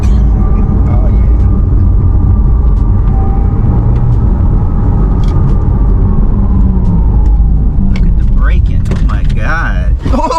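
Porsche Taycan electric car driving and braking, a loud steady road rumble and hum from inside the cabin with a faint whine, with people talking and exclaiming near the end.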